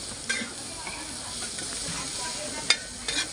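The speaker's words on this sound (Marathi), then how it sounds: "तर छान अशी ही आपण आता तळून घेणार आहोत करवंदाची चटणी आणि नागलीची भाकर" Karonda wild-berry chutney fries in a pan with a steady, close sizzling hiss, broken by a few brief stirring scrapes; no voices.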